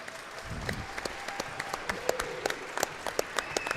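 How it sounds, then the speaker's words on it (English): Applause from the audience at a World Games men's singles racquetball quarterfinal as the International Olympic Committee entourage arrives, a steady round of clapping throughout, with a voice briefly over it. "Applause."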